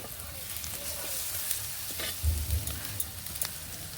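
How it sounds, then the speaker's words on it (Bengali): Spices with turmeric and salt being sautéed in a pan for a taro and small-fish curry, giving a low steady sizzle with scraping stir strokes and a couple of heavier knocks partway through. "সব মশলাগুলো দিয়ে ভালোভাবে একটু কষিয়ে নেব"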